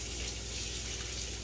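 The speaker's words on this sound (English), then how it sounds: "Here, I'll wash off my spoon." Steady running tap water pours continuously over a spoon being rinsed at a sink, a close, even splashing rush with no pauses or voices.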